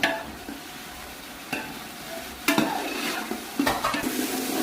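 Chicken masala gravy being stirred in a pot, a steady sizzle under repeated scraping strokes of a spoon against the metal, close and moderately loud with no talking.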